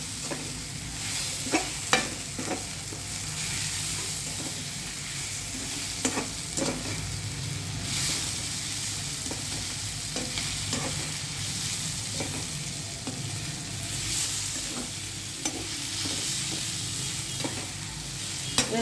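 Mint chutney ingredients frying in a pan, a steady close sizzle with repeated scraping and stirring knocks, no talking.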